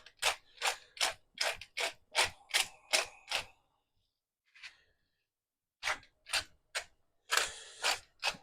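A hand pepper mill grinds pepper into a braise for Spanish octopus, sharp ratcheting crunches in quick bursts of twists, pausing briefly before another run of grinding, close and clear with no talk.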